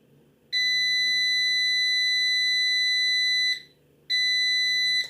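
Loud continuous electronic beeps from a tester signalling a caught transistor during repair of a storm-protection unit's processor and switches; a steady tone lasting about three seconds, a short gap, then another, close and alone.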